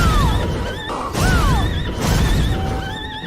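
Horse whinnies in the video game Bloodstained: Ritual of the Night, a couple of descending neighs standing out over a busy, loud game soundtrack with hits and swishes.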